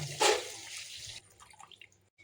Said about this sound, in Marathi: शिमला मिरची व्यवस्थित परतल्यावर त्यात पाणी ॲड करा